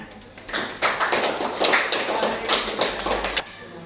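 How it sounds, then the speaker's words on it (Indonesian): Classroom students clap their hands together in a lively burst of scattered claps lasting a few seconds, loud and close, with no voices over it. "Oke, tepuk tangan."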